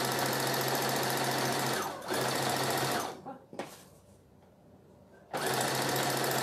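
Sewing machine stitching a small doll dress, running loud and steady in long bursts with brief pauses between them, close up, with a voice faintly underneath.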